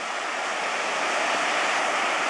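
Ocean surf rolling in at Pismo Beach, California, a constant broad roar of breaking waves close to the microphone with no voices over it.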